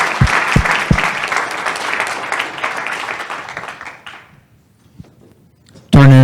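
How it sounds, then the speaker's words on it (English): An audience at an insurance agency management systems showcase applauds, dense clapping from a crowd sustained for about four seconds before fading out, with a few thumps at the start and a voice speaking at the very end. "Applause, round of applause."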